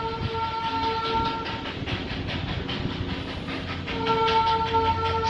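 A diesel train pulls out in Darjeeling with a loud continuous rail rumble and clatter, its horn sounding near the start and blaring again more strongly toward the end.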